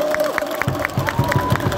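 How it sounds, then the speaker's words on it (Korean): A crowd at a baseball stadium claps and cheers, with quick repeated claps over a roar of many voices and a speaking voice mixed in. "따뜻한 박수 한번 보내주시면 감사하겠습니다"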